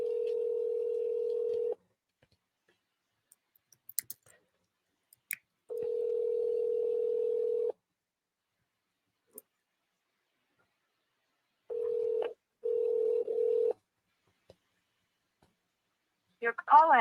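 A telephone tone sounds in a few steady beeps with silent gaps between them, and a short burst of dialing-like clicks and tones follows, thin and clear, with no talking.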